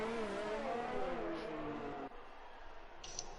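A race car in a Formula 3 racing video game at Austria roars at high revs, then drops as it brakes into a turn, followed by a quieter engine note. Loud and close, with no speech.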